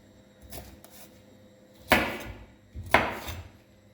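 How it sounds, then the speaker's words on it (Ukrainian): Knife chopping bell pepper into small pieces on a cutting board, with two sharp distinct cuts preceded by a couple of softer taps, close and fairly quiet. "Перці спочатку розрізаю на отакі смужечки, а тоді поперек ріжу на ось такі ось шматочки"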